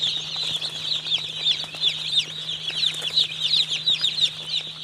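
Chirping from many young chicks on a poultry farm fills the scene with continuous overlapping high-pitched peeps, steady and fairly close, with a low constant hum beneath and no talking.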